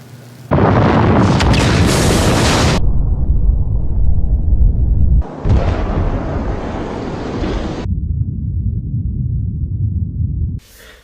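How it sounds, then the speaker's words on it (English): Two large test explosions for mushroom clouds, each a loud roaring blast followed by a long rumbling, wind-buffeted tail, heard up close and alone. "When an explosion occurs"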